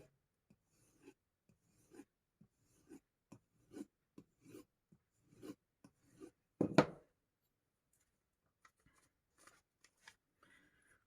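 A knife blade is worked against polishing compound in short light strokes, a string of soft regularly spaced scrapes with one louder rasp near the middle, then sparse faint ticks, close and quiet.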